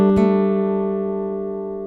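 Acoustic guitar sounding a single strummed chord, struck once and left to ring, slowly fading, close and loud with no talk.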